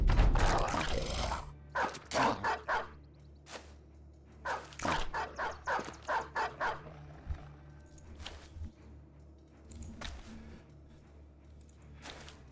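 War dogs in the video game Battle Brothers bark and snarl in repeated bursts of quick, loud barks, with combat hits and clatter between them.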